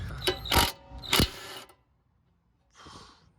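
Ratchet with a swivel and 17 mm socket turning a ball joint nut on a Honda Civic front suspension knuckle, several quick close clicking bursts, then a pause and one softer rattling turn.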